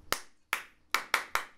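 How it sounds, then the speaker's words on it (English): Five crisp, close hand claps ring out in a rhythmic pattern during a live performance, two spaced apart followed by three in quick, even succession, each with a short decay and no voices. "If I clap this one. You say, don't clap this one back."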